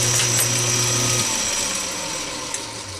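A power tool whirs steadily while deburring the inside of a threaded shop part, a low motor hum that drops away after about a second and leaves a softer grinding hiss, with one small tap near the end.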